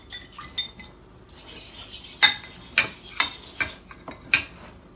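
A metal spoon knocks and scrapes in a cooking pot as rice goes in for Turkish asure dessert, with a series of sharp clinks at uneven intervals, close and without speech.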